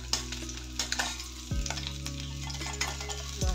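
Small fish fry in mustard oil with a steady sizzle and crackle, while a utensil stirs and scrapes through the pan in a few distinct strokes, close up with no talking.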